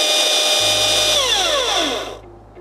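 A Husqvarna 540i XP battery chainsaw whirs at a high, steady electric pitch after the trigger is pulled, then winds down with a falling tone as it is released, loud and close.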